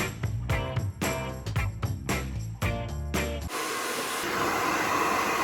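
Rhythmic music plays for a few seconds, then cuts to a hair dryer blowing hair dry at home after a root color touch-up, a loud, steady, close rushing whoosh that runs to the end.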